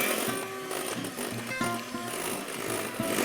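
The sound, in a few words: electric whisk beating egg whites with caster sugar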